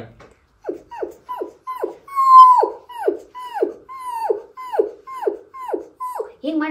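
A comedian imitates a dog, producing a rhythmic series of about a dozen high, falling yelps and whimpers, loud and close, alone with no talk around them.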